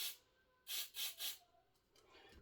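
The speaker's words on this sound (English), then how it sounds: "That's me spraying the static guard." Three quick hissing bursts from a can of Static Guard spray, close and fairly soft, separated by short pauses, with faint rubbing before and after.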